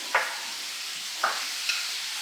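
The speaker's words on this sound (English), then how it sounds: "You hear that sizzling?" Pork sizzles in a hot pan for grilled pork vermicelli noodle salad, a steady frying hiss broken by three short stirring scrapes, close and moderately loud.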